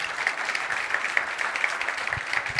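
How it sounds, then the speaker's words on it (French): An audience claps steadily for a few seconds, a dense patter of many hands with no voices over it. "On peut l'applaudir."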